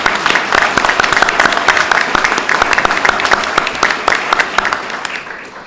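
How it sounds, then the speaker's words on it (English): Audience at a government flood recovery program announcement applauds loudly, with sharp individual claps standing out in a steady round that tapers off slightly at the end. "If we can have another round of applause for the announcement today."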